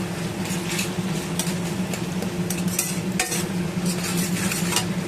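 Cooked-down onion and tomato paste stirred in a pan, a steady close scraping of the utensil over a continuous low sizzle, with sharper clinks now and then.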